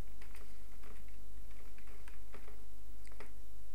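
Keys clatter in irregular bursts on a computer keyboard while laying out a Photoshop advertising banner, fairly close and steady over a low constant hum, with no voices.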